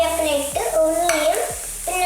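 Oil sizzles steadily in a pan while scrambled egg masala is being made, with a spoon or spatula scraping and stirring a few times and no one talking.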